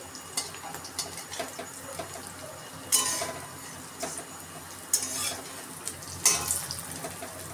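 Potato tikkis are turned over one by one in a frying pan, each flip bringing a short crackling sizzle over a low continuous fry.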